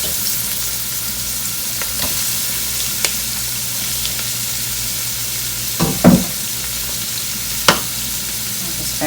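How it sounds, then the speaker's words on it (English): Conch sizzling and frying in a pan for a seafood legumes dish, a steady crackling hiss broken by a few sharp clatters and scrapes of stirring near the end, with no talk. "once you've allowed this to cook, you want to go ahead and add in your conch"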